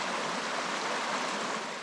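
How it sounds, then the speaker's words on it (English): Limestone Creek rushing swiftly in sub-zero conditions, a steady, full broadband wash of flowing water heard up close with no pauses and no voices. "this river or creek is rather, she's a goer"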